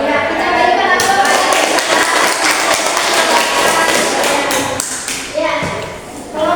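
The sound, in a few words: applause for a class group presentation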